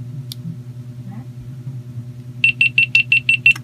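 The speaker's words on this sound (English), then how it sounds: "And you will hear that beep." A GoPro Hero 9 Black action camera beeps as it powers off: a quick run of about seven even, high electronic beeps, close and clear, over a steady low background hum.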